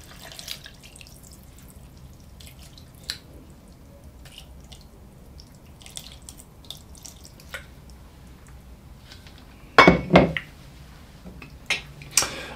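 Water for a sauerkraut cream goulash goes into a cooking pot: quiet scattered drips, then a short, close splashing pour and a few more trickles, with no talking.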